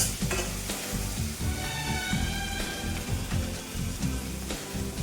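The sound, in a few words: tomatoes and curry leaves sautéing in a pan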